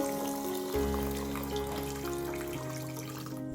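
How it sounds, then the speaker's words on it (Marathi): Basmati rice is washed in water, giving a continuous close splash and trickle with sloshing that shifts in pitch over a few seconds, and no voices. "आता हा तांदूळ स्वच्छ पाण्याने धुवून घ्यायचा"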